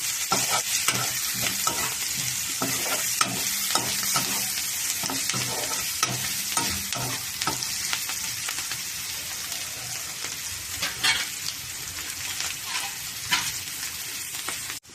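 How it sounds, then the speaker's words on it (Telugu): Onion pieces frying in a pan while being stirred for a dried prawn and okra curry, a steady crackling sizzle with repeated scraping strokes of a spoon, close and continuous without talk. "ఉల్లిపాయ ముక్కలు కూడా మగ్గిపోయినాయి కదండి, బెండకాయలు కూడా వేసేద్దాం."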